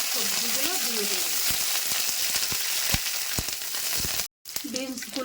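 Vegetables (beans, capsicum, carrots) sizzle and fry in ghee with a bay leaf in a kadai, a steady close hiss with brief clatters of stirring, cut by a short silent gap near the end.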